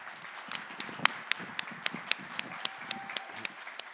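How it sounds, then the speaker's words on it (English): Applause from a conference audience after a talk: sparse, fairly quiet hand claps in an irregular rhythm over a faint room murmur. "Let's give it a big shout out, a big round of applause."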